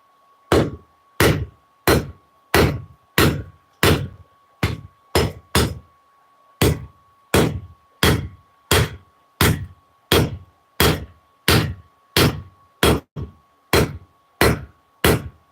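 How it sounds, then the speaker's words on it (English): A blacksmith's hammer strikes steel on an anvil in a steady rhythm of loud, sharp blows, roughly two per second, with one brief pause partway through and a faint ringing tone held beneath the strikes. "doing half on, half off blows back and forth until it evens out"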